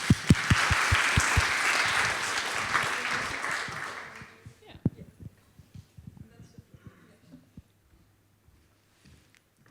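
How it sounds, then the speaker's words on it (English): Applause from a symposium audience, a dense burst of clapping for about four seconds that stops sharply, followed by scattered bumps, footsteps and faint voices in a quiet room. "I would very much like to invite her and give her an applause."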